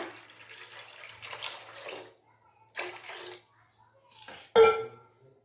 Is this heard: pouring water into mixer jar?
yes